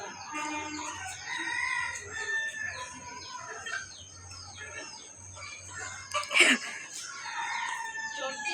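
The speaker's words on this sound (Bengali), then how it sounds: "পাখির সাথে মজা করছি" Chickens cluck and a rooster crows close by, with layered calls running throughout and a sharper, louder outburst near the end over a low background hum.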